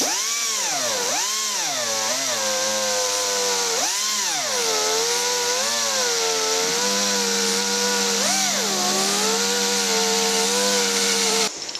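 Carbide burr grinding into a piece of aluminium, a steady high motor whine lasting about twelve seconds whose pitch repeatedly sags and recovers as the cutter bites under load, close and loud with no talking.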